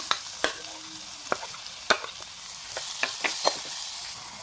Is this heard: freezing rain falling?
no